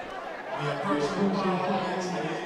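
Crowd of high school football fans murmuring and cheering in a stadium at Harvard Stadium, a broad continuous din beneath a nearby announcer's voice.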